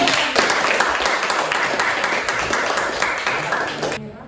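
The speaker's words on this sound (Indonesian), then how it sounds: "Beri tepuk tangan dulu" Classroom applause from a group of students, dense steady clapping that is loud and close, continuing for about four seconds before stopping abruptly.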